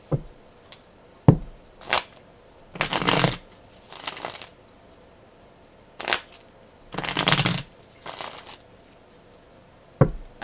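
Small tarot deck being shuffled by hand in bursts: quick riffling flutters of cards, several short and a few longer, close and fairly quiet with pauses between.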